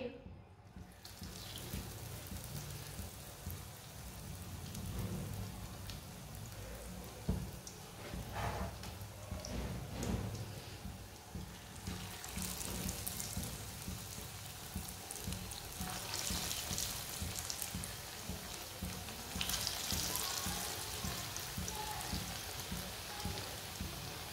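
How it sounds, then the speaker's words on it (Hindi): Aloo tikki potato patties fry in a small amount of oil, giving a steady, fairly quiet crackle and sizzle that persists throughout, with a brighter hiss near the end. "ये बहुत ही कम ऑयल में फ्राई होंगी"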